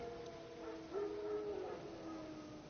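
Wild dogs howl in The Witcher 3 video game, a faint, drawn-out howl rising and holding over a quiet ambient background.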